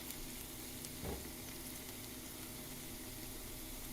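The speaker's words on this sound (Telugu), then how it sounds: "అట్లా వేగిన తర్వాత మనం ఈ అల్లం వెల్లుల్లి పేస్ట్ వేసుకోవాలి." Ginger garlic paste hissing as it goes into a pan of fried onions for a salmon fish curry, giving a steady, close sizzle throughout with one brief louder burst when the paste lands.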